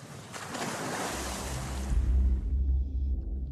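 Boat moving across a lake, with steady broadband water wash and wind that gives way to a louder low rumble of the hull and engine pushing through waves near the end.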